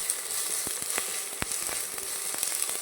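Tomatoes sautéing in a pan give a steady bright sizzle throughout, punctuated by several sharp scraping clicks as they are stirred, close and fairly loud with no voices.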